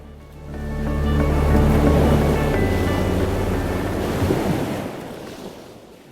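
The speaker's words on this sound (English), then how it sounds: "the crunch of the wet sand, the crashing of the waves." Ocean waves crash and wash onto a beach in a steady, loud roar with a broad surging swell and some wind noise, no voices.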